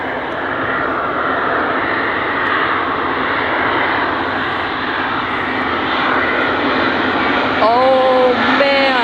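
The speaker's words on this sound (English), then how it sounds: "Here comes the Airbus A350-900 SAS Airlines arriving into Dulles" An Airbus A350-900 SAS Airlines jet arriving at Dulles roars loud and close in a sustained engine wash, with a brief voice cutting in near the end.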